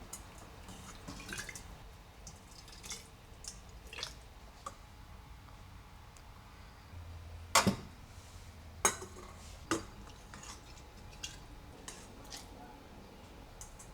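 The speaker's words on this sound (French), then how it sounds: "avec une louche, hop, je vais pouvoir remplir très proprement" Preserves being ladled into large jars through a wide funnel: soft wet drips, splats and occasional clinks of a ladle against glass, fairly quiet and intermittent, with a louder clatter near the middle.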